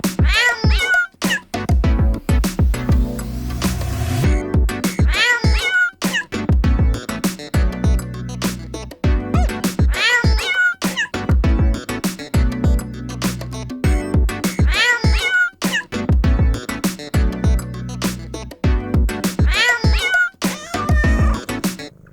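Cats meow over and over, a close string of loud, drawn-out cries with some wailing caterwauls, arriving in irregular bursts separated by short pauses.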